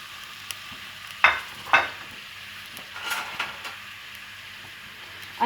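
Two sliced onions frying in leftover kofta oil in a pan until light brown, a steady soft sizzle broken by a few sharp scrapes and clinks of the spoon, close by and without talk.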